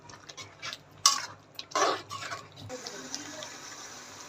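Spices for a chicken roast being stirred and sautéed in a pot, with a few sharp spoon clinks and scrapes against the metal over a faint steady background.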